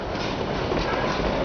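A steam train moves through the town of Silverton, Colorado, with a continuous rumbling roll of wheels on rails and metallic clanking, fairly loud and close, with no voices.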